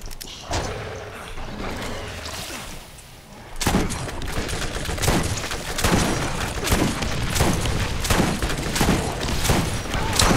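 Repeated grenade explosions and gunfire in the video game Borderlands, a series of loud booming blasts arriving in quick succession, after a quieter stretch of game noise and some background talk.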